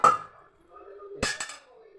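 A metal pressure cooker is set down on a stove in a home kitchen, giving a couple of close, sharp clanks partway through, with faint talk before.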